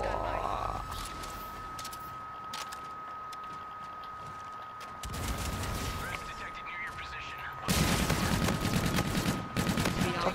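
Turret gunfire in a video game, heard as rapid bursts of automatic shots over a steady high electronic tone, with heavier stretches of fire that grow louder toward the end and a player talking at times.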